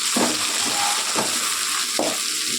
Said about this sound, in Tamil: இப்போ வெங்காயம் அடுத்து பச்சை மிளகா, தக்காளி எல்லாத்தையும் நல்லா போட்டு வதக்கிடலாம்.